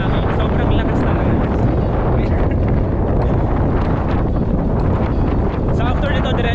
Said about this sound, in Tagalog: parang nadadala na kami ng hangin. Sobrang lakas talaga.